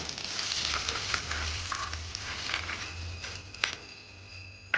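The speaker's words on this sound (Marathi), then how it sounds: "आता हे सगळं छान फोडणी आपण काकडीच्या कोशिंबीरीमध्ये मिक्स करून घेऊया." Steady crackling sizzle of hot oil tempering being poured into a cucumber salad, with a few sharp clinks near the end.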